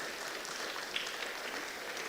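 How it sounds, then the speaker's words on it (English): Brief, steady applause from an audience for the panelists at the PortsToArms Global Summit, an even, moderately loud wash of clapping with one slightly sharper clap near the middle. "please give a round of applause to our panelists"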